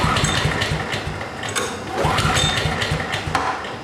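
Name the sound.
petrol generator being cranked over, not starting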